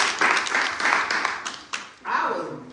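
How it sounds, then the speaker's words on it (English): Awards-event audience clapping for honorees at an NAACP acknowledgement ceremony, bursts of many hands that swell and dip, with a short lull before a fresh surge, fairly close and loud. "Give them another round of applause"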